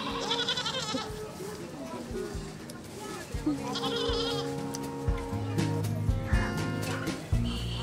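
Goat bleating on a farm field, several harmonic calls spread through the clip, mixed with people talking nearby and background noise.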